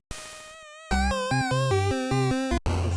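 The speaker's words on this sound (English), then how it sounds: "when you activate a vibrato, you need to end it, which we didn't do for this melody, so that's why it sounds like this." A Famitracker chiptune melody whose vibrato is never switched off, so the bright square-wave notes keep wobbling in pitch as the short stepping phrase plays over a bass line, loud and alone, then cuts off abruptly.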